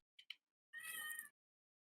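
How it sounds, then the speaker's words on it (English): A cat gives two tiny chirps and then one clear, drawn-out meow, close and alone against silence. "and hear a cat"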